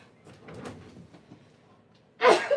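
A quiet stretch of soft breathing, then a single loud, abrupt sneeze near the end.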